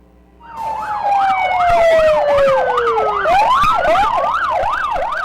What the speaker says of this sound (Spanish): era anunciada por una sirena de la unidad del convoy que iba de avanzada